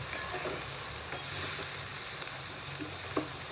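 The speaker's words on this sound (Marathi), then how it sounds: "आणि आता हलवून चांगली घ्यायची." A spatula stirs spiced medicinal white kuda bud greens (kudyachya senga) in a hot pan, steady sizzling and frying hiss with a few soft scraping strokes, close and continuous, without speech.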